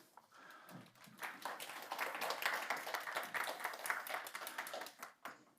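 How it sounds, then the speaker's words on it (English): Workshop audience clapping as a panel member comes up at a tourism industry panel discussion, a soft scattered smattering that swells, holds steady, then thins out near the end. "can you give them a clap or can you give them your jazz hands as they come up?"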